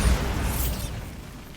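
A Bombarda spell explosion from Hogwarts Legacy bursts with a loud, close boom at the start, then a short crackling, fizzing tail that fades over about a second, with no voices.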